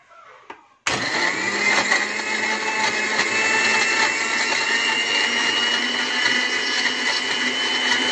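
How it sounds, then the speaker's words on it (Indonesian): Kitchen blender whirring through a chocolate Pop Ice drink, switching on abruptly after a short quiet moment and then running loud and steady for about seven seconds, with no talk. "blender. Bismillah."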